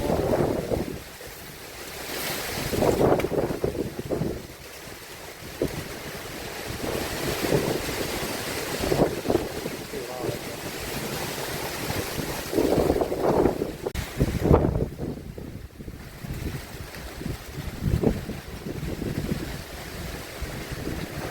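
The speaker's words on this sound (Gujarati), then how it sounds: "પવન ને વરસાદ થઈ ગયો." Strong gusting wind with unseasonal March rain sweeps through a township in Jamnagar, a continuous roaring rush with repeated louder surges, buffeting the microphone throughout.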